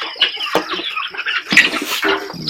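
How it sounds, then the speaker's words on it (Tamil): Chickens flap their wings in a few quick, rustling bursts, with clucking and scratching in a busy poultry farm yard nearby. "சொல்லுங்களேன், செட்டை கட்டுது."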